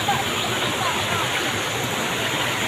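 Water rushes at a bathing spring, a loud, steady hiss and roar close by, continuous without a break.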